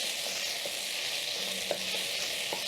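Mutton for pilau cooks in a pot with a steady close hiss and sizzle, a couple of faint stirring knocks breaking the even sound, no one speaking.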